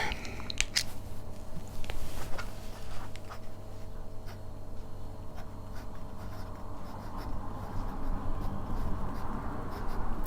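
A Hongdian 920 fountain pen writing on a Rhodia paper pad: close, quiet nib scratching and light strokes with a few sharper taps near the start, continuing steadily with no talking.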